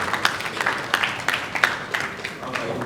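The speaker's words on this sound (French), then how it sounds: "On peut applaudir," An audience applauds at an evening event, a steady wash of clapping with sharper individual claps standing out at irregular moments, moderately loud and continuing throughout.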